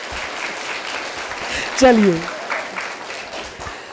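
Applause from a crowd at a Buddhist vihara in Badlapur, Mumbai, fills the background throughout, a steady clatter of many hands, while someone briefly speaks over it.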